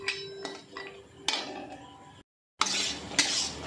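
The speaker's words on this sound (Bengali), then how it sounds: "এবারে ওই শুকনো কড়াতেই আমি কাজু আর কিশমিশটা একটু ভালো করে নেড়ে নিচ্ছি" Cashews and raisins stirred in a dry wok, heard as close metallic scrapes and light clinks of a spoon against the pan in short strokes, with a brief silent gap midway and no talking.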